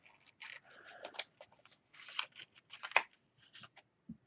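Scissors snip through paper for a craft album in short, irregular cuts and crunches, close and fairly quiet, with brief pauses between strokes and a soft knock at the end.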